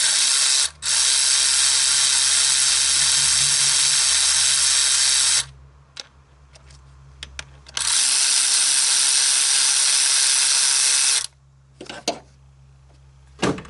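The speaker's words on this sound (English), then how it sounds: "I'm going to start by getting the tensioner off here. Two 8mm bolts." A power ratchet or impact tool spinning out the two 8mm belt tensioner bolts on a 2014 Ford Taurus Limited 3.5L. It gives two long, loud, steady bursts, with brief clicks and handling noises between them.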